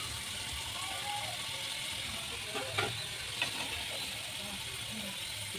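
Spice paste dropped into vegetables frying in a home kitchen pan, giving a soft, steady sizzling hiss with a couple of faint clinks partway through.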